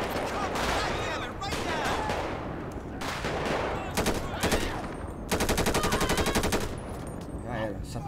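Rapid bursts of gunfire ring out in a GTA 5 street shootout, with repeated automatic volleys and single shots, including a long fast rattle near the end, and someone talks between the shots.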